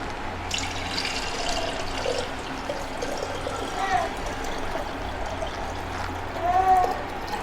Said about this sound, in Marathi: आता आपण यामध्ये ॲड करूया आपलं बऱ्यापैकी गार झालेलं म्हणजे कोमट दूध